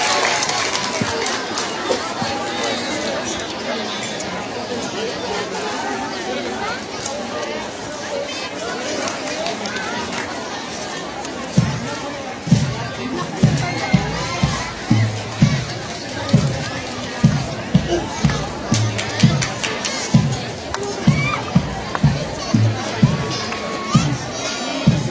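An audience at a school drum and lyre exhibition cheers and applauds in a dense, steady roar with voices mixed in. Midway, regular loud drum beats begin and continue under the crowd noise.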